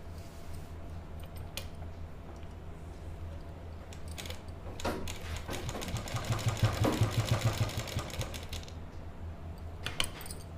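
A sewing machine stitches the lining of a kurti in short bursts of rapid, even needle pulses, loudest midway, over a steady low motor hum and quiet room background.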